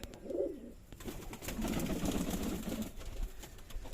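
Giribaz pigeons coo softly in a pigeon loft at a Bangladeshi farm, low throaty warbling calls that rise and fall almost continuously, close by, with no voices.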